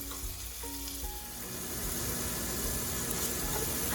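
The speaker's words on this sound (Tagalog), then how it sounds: "So, iba-brown lang po natin yung pork." Pork browning in a hot pan for vegetable lumpia, rendering its own fat with a steady, close sizzle and crackle throughout and a few faint stirring clinks early on.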